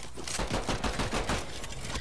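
Dense, rapid gunfire from the video game Fortnite rattles continuously for two seconds, loud and steady in an unbroken burst with no voices over it.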